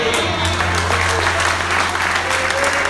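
A church congregation's applause and cheering in praise of the Lord, loud and dense, sustained without pause, with a low steady hum and some voices mixed into the ovation.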